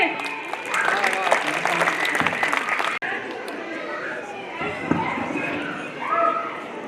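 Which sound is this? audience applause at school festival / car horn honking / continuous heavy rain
audience applause at school festival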